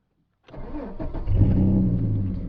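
A 1995 Ford Falcon GLi (EF) with a manual gearbox and a loud aftermarket exhaust cranks and fires after a brief silence, then settles into a loud, rough idle with a quick rev, heard close up and without talk.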